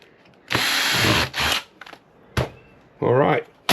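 A power screwdriver whirs in several short, loud bursts as it backs screws out of a scrap circuit board, separated by quieter handling noises and a faint voice.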